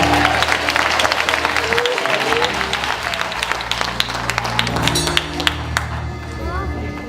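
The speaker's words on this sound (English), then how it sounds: "Somebody give her a hand clap of praise" Congregation applause and clapping at a 2017 retirement celebration, a dense, steady wash of many hands lasting several seconds, with crowd voices and a few cheers mixed in.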